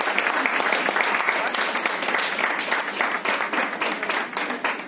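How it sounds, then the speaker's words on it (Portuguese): Audience clapping steadily for a motivational speaker at an empowerment talk, a dense, continuous round of applause that holds loud throughout before thinning slightly near the end. "Uma salva de palmas para lá."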